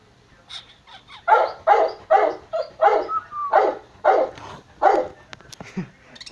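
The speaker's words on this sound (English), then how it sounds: "He's barking now because I think he wants food or something." A loud dog barks close by in a rapid run of about eight sharp barks, with a few softer yips and whimpers between them, indoors in a home that also keeps parakeets and fish.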